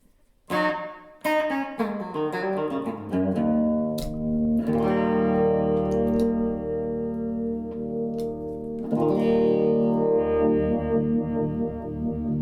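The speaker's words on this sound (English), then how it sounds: "Reverb's working." Electric guitar run through a reverb pedal on a Pedaltrain Metro 20 pedalboard: a few quick plucked notes, then sustained chords that bloom into a long washy reverb tail, loud and close, with no voices.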